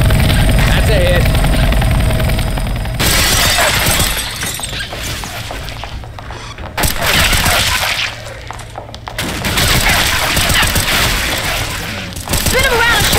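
Gunfire and loud action noise from the video game Left 4 Dead 2 on a snowy Dark Carnival map, with dense bursts that cut in and out over several sections, mixed with players talking.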